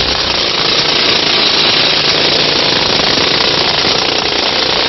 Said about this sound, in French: deux marteaux-piqueurs attaquent les 30 derniers centimètres de craie bleue